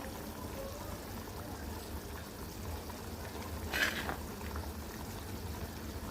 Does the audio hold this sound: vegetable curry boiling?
yes